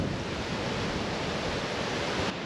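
Steady broadband wind rushing past the microphone beside a mountain lake in the Mercantour, a continuous close roar with no pauses and no voices.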